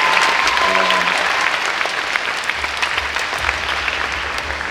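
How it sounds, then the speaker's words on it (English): A crowd at an 8th grade graduation ceremony applauds with loud, dense clapping that holds steady throughout before easing slightly toward the end. "So, yes, you can clap for Mr. Chechi."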